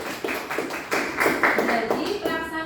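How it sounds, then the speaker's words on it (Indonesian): Brief burst of clapping from a classroom group during an Indonesian civics lesson, a few seconds of uneven claps over low room noise. "Tepuk tangan buat Mala."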